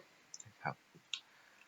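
A computer mouse clicks a few times during SketchUp modelling work, giving quick, faint, close clicks with a brief low murmur between them.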